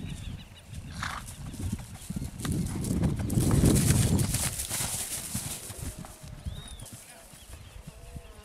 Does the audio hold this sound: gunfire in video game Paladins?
no